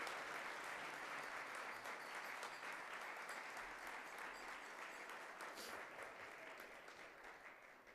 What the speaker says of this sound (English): One more big round of applause for all of our Hidden Treasure honorees today.